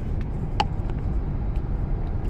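Low road traffic rumble from inside a car in slow traffic, a steady dense drone with a few faint clicks and knocks over it, no talking.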